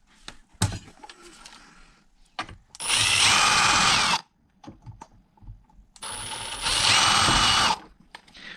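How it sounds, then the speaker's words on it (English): A power drill bores screw holes while a mortise lock is being installed, in two loud sustained bursts of about a second and a half each, separated by quiet handling clicks and knocks. "Drill my holes."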